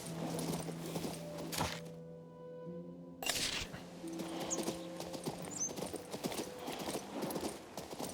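Horse hooves clip-clop at a steady walking rhythm in the fantasy RPG King's Bounty II, accompanied by soft game music and a brief gap of quiet partway through.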